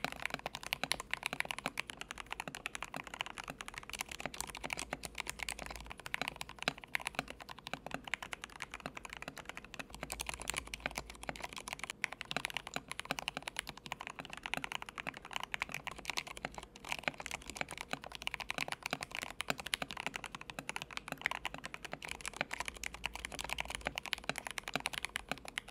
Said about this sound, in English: With switches like Gateron Black Inks,